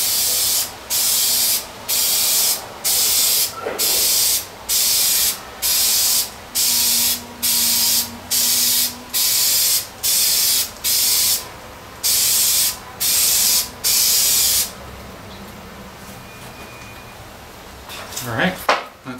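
An automotive aerosol can sprays clear coat onto a 2014 Gibson SGJ guitar headstock, about a dozen loud, close, evenly spaced hissing bursts of roughly a second each, followed by a few faint handling clinks.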